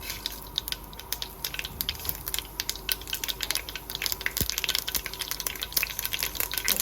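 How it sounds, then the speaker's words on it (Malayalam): Mustard seeds, with a little fenugreek, crackling in hot oil for a Kerala kurukku kalan, giving a faint, steady stream of tiny sharp pops and spits over a soft sizzle, close with no voices. "ഓയിൽ ചൂടായിട്ടുണ്ട്. അതിലേക്ക് കുറച്ച് കടുക് ഇട്ട് കൊടുക്കാം."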